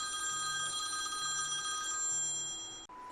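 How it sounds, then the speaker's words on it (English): A cell phone rings during outdoor fly-line rigging work, with a steady electronic tone pattern that repeats several times at close range, then cuts off abruptly near the end. "we had a little cell phone interruption"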